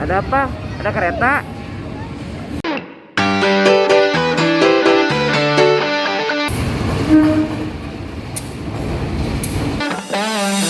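A train rumbles past with loud clattering and a blaring horn, while people talk and exclaim over the noise.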